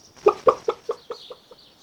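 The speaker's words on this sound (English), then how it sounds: "the void chicken laid an egg, and then I petted the chicken" Void chicken from the Stardew Valley video game clucking after being petted, a series of about seven short, evenly spaced clucks that fade in loudness, alone without speech.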